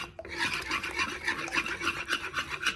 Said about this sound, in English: with my good old Danish whisk